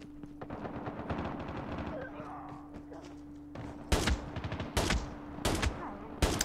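Gunshots crackle in the mobile shooter Call of Duty Mobile: a rapid stream of shots first, then several loud, separate bangs spaced about a second apart, with a voice talking faintly at times.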